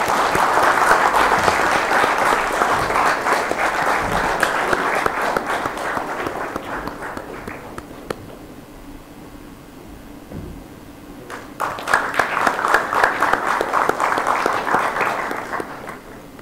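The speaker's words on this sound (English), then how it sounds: "A big round of applause, ladies and gentlemen." An audience at a university event claps loudly and steadily. The applause thins and fades near the middle, then swells again to a full, dense burst before tapering off.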